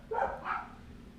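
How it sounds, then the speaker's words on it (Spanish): A dog gives a couple of short barks close by, one quick yip followed by a second bark within about half a second, then quiet room tone. "está un poquito de ruido lo de unos perros aquí cercanos"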